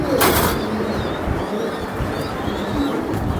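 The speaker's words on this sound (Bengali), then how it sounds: "নিজের খামারের কবুতর" Racing pigeons coo softly in a steady background hum, with a brief flutter near the start and low repeated calls throughout.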